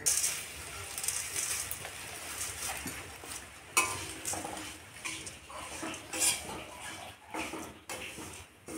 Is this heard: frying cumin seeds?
yes